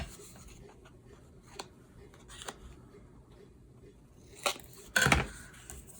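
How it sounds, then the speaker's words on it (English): Scissors snipping off the corners of junk journal paper, a few scattered soft cuts followed by a louder crisp snip and paper rustle near the end, close by in a quiet room. "Now I'm going to cut off those corners."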